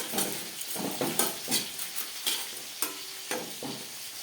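Whole cumin and black peppercorns dry-roasting over low flame in a pan, stirred with rhythmic scraping sweeps roughly twice a second with a light rattling sizzle, close and fairly loud.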